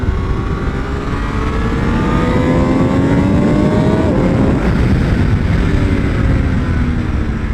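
A Triumph Daytona 765 Moto2 race motorcycle runs on a track, its engine droning loudly and steadily as the revs climb and fall through several gear changes, with auto-blipped downshifts and wind noise throughout.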